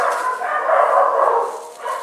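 Several dogs bark and yip inside kennels, a continuous overlapping chorus at moderate loudness with a brief dip near the end.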